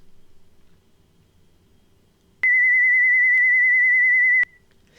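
A steady whistle-like pure tone sounds for about two seconds after faint background noise, with a slight wavering quality, alone and fairly loud.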